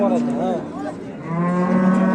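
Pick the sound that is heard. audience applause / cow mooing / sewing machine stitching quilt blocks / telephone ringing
cow mooing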